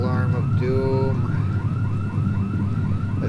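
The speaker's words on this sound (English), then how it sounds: "There's a car alarm of doom." A car alarm in the zombie survival game Project Zomboid blares in loud, rapidly repeating rising electronic sweeps, cycling continuously and close by with no pauses.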